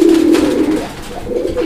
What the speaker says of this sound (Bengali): আমরা এই মুহূর্তে দেখতে পাচ্ছি এখানে একজোড়া রেসার কবুতরের বাচ্চা রয়েছে